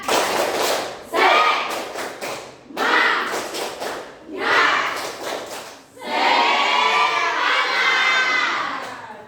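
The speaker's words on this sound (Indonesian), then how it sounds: "Tepuk semangat." A group of children performs an Indonesian spirit clapping chant, with four loud bursts of rhythmic clapping and shouting separated by short pauses, then a longer spell of excited shouting and cheering.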